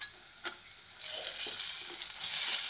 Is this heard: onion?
yes